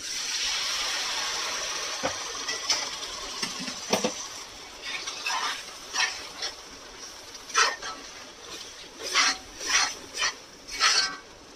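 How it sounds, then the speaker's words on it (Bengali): Hot water poured into a dry spiced chickpea curry base for Amritsari pindi chhole, first a gushing pour, then a sequence of rhythmic scraping stirs that grow louder and more distinct toward the end. "একদম শুকনো শুকনো রয়েছে, তাই এটাতে একটু গরম জল দিয়ে দিলাম।"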